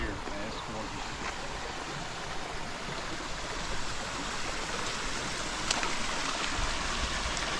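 Continuous broadband rush of a flowing Ozark creek, steady and fairly near, with occasional small splashes and no voices.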